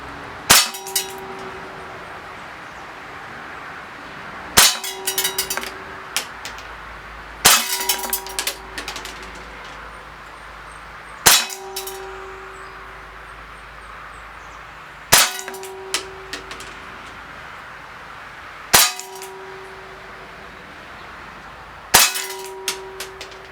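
An Umarex Walther CPSport CO2 pistol fires BBs at a target: sharp, separate shots spaced a few seconds apart, each followed by a bright metallic clang and short rattling clinks.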